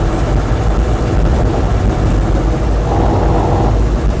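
A Land Rover Series III 88-inch diesel truck cab idles with a steady, loud rumbling clatter throughout, close by and continuous with no voices.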